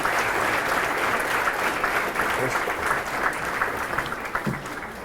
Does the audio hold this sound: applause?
yes